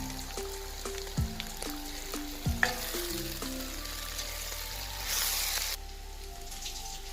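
Spiced beef fried and stirred in a pan, with a steady sizzle and repeated clattering scrapes of the spoon against the pan, close and without talk.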